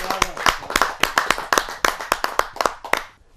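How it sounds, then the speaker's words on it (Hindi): An audience at a Holi kavi sammelan poetry recital claps in rhythmic unison, a loud, close run of about a dozen crisp claps at a brisk steady pace that stops abruptly. "मैं बिटिया प्रियंका राय को जोरदार ताली के साथ आमंत्रित करता हूं"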